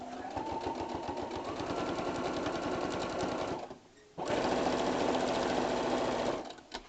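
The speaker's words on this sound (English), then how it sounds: "All right, back to the sewing machine." A sewing machine hums and stitches a strip quilt in a fast, even rhythm, pauses briefly, then starts again and runs steadily close by.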